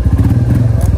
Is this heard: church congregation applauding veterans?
no